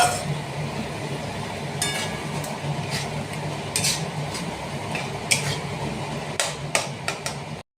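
Tomatoes stirred in oil in a pan while mutton curry cooks, a spoon or spatula scraping and clinking against the metal pan in irregular knocks over a steady sizzling background, with a few sharper taps near the end.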